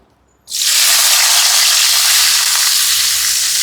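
Green chilies, onion and garlic hitting hot oil in a pan, a sudden loud sizzle that bursts in and holds as a steady hiss, close by with no talking.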